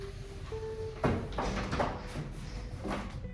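A door in a house swings and is pulled shut, giving a few soft knocks and a rattling thud against quiet room background, with no talk during the sound.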